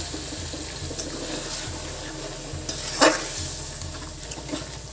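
Mutton curry fries and sizzles in a pan as hot water is poured in, with a steady bubbling hiss, stirring scrapes and a brief louder splash partway through.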